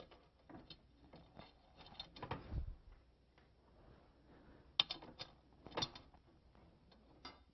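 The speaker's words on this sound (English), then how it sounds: "put the template follower onto the back here and mount it with the 4 screws" Four screws driven in to mount a template follower on the back of a router base for a framing jig, giving faint, scattered ratcheting clicks and small mechanical taps with no talk.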